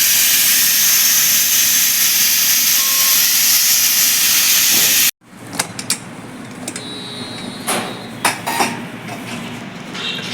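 Pressure cooker on a gas stove releasing steam, a loud continuous hiss for about five seconds that cuts off abruptly, followed by quieter kitchen clinks and clatter of pots and utensils.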